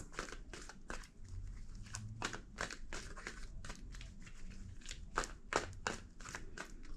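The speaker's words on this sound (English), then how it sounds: "2 more shuffles." A deck of tarot cards is shuffled by hand in a series of quick papery riffles and crisp slaps, close and soft in a quiet room.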